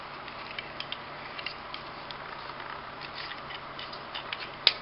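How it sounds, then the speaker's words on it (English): Ratcheting joints on the arm of a Combiner Wars Transformers toy being worked, producing a rapid series of faint, close plastic clicks and ticks, ending in a slightly louder click. "He's got ratcheting here, ratcheting there."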